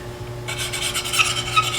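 A card rubbed around the bevel of a wood end-grain hollowing tool gives a steady, close raspy scraping that starts after a brief quiet moment and continues with small swells, with no talking.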